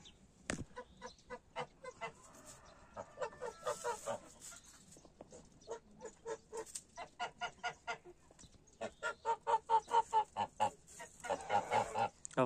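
Geese of a rare, expensive breed honking repeatedly in rhythmic runs of calls, moderately close in a farmyard, with a few overlapping cackles and no talk.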